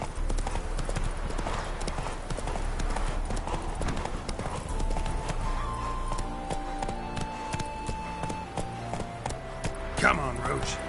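Horse hooves pounding in The Witcher 3, a fast continuous gallop rhythm over game music, with a brief voice near the end.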